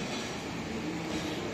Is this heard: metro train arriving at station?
yes